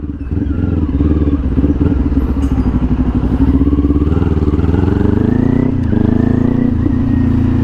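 A Kawasaki Ninja 400 fitted with a LeoVince LV-10 exhaust runs close and loud, its deep exhaust note climbing in a gentle rev before settling back.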